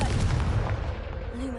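Confringo blasting spell from the video game Hogwarts Legacy erupts as one deep, rumbling boom that lingers and fades, loud and close.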